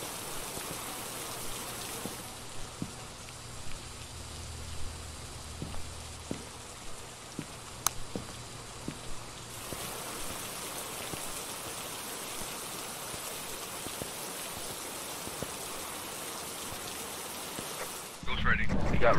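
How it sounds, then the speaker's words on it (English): Heavy rain pours steadily in the Phasmophobia game, a dense hiss of downpour running throughout with faint tapping and low rumbles beneath, swelling louder in the final seconds. "Why is it always pouring rain?"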